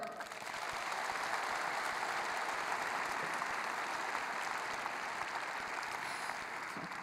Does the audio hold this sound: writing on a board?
no